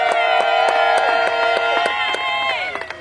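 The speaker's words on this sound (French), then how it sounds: "Applaudissez" Wedding guests at a civil marriage ceremony in Ngaliema burst into sustained clapping and cheering, a dense crowd applause with scattered sharp claps and voices that tapers slightly toward the end.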